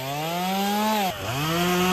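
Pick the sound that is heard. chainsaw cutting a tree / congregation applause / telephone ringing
chainsaw cutting a tree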